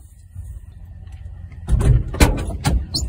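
Car door slammed shut in an outdoor stop, a few sharp thuds and clunks arriving after a quiet stretch of low rumble, loud and close.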